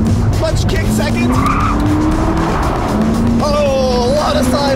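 Nineties convertible with a 4.6 liter V8, drifting sideways on a race track: loud, close tire squeal wails continuously over the roaring engine, pitching upward near the end, with excited commentary voices in the background.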